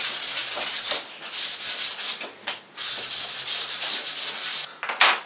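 Sandpaper rubs the inside of a plastic bottle sleeve, steady, close, rasping back-and-forth strokes, loud and rhythmic with brief pauses.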